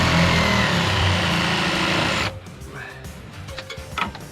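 A power sander grinds loudly and continuously on a fishing paddle board motor mount for about two seconds, then cuts off, leaving quieter scattered handling noises and faint rustles.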